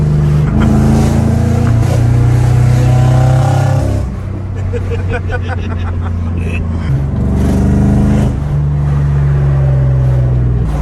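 A slammed, stanced Mercedes W140 drives loudly, its engine drone rising and falling through gear changes and acceleration over a deep, steady rumble.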